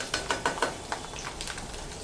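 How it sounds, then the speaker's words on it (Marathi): Garlic fries gently in oil for sesame chutney, a faint soft sizzle under a few quick metallic taps of a spoon stirring in the pan, close and quiet. "हा लसूण छान लालसर रंगावरती छान तळून घ्यायचा"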